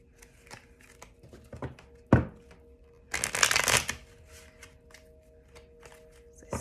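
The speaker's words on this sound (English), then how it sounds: "As I sit with these and shuffle cards." Tarot cards shuffled by hand in a quiet room, with short riffling bursts, a sharp slap near the start and a longer, louder shuffling run in the middle, then soft handling sounds.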